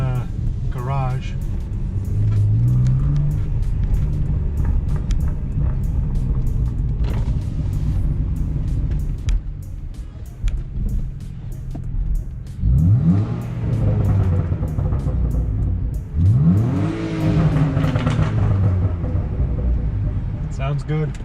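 Tuned BMW E46 engine revs in a garage, heard close with a steady rumble that rises into two louder sweeping revs near the end.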